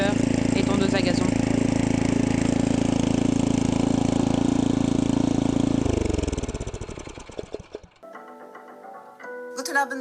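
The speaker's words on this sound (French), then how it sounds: "c'est un mix entre motoculteur et tondeuse à gazon." A small petrol engine like a rotary tiller or lawn mower drones steadily in the countryside, then sputters and winds down to silence, followed by a brief unrelated musical sting.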